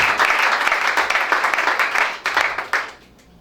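A congregation at a French-language church service claps and cheers loudly in acclaim of Jesus, a dense burst of applause that tapers off toward the end.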